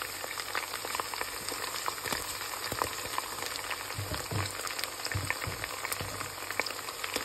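Ginger-garlic paste hits a pan of browned onions and garam masala for a mixed dal chicken curry, producing a steady, close, crackling sizzle heard alone.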